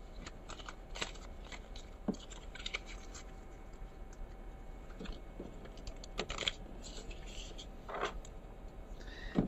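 A small auxiliary deck of sixteen playing cards is shuffled by hand, giving soft, rapid riffling and tapping clicks in irregular bursts over quiet room tone.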